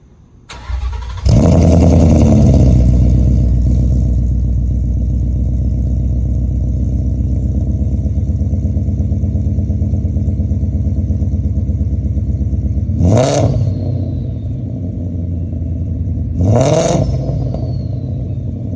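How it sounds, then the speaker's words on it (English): A car engine, idling and showing its latest mods, starts up and holds a loud steady idle, then is given two sharp throttle blips that rise and fall quickly, close and alone with no talk. "give it a few blips, crank it up."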